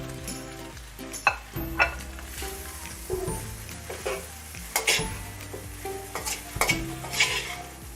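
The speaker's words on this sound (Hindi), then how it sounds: "ये जो हमने रात की बची हुई रोटी काटी हुई थी ये देखें, वो मैं इसमें ये सारी डाल दूँ।" Leftover roti pieces tossed into a hot sizzling pan and stirred, giving steady frying hiss broken by a few sharp scraping stirs and clinks of a utensil against the pan, close and fairly loud.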